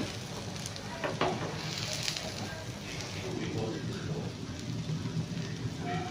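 An egg bread omelette made with milk fries in a pan, giving a steady, dense crackling sizzle that runs unbroken from start to finish at moderate loudness.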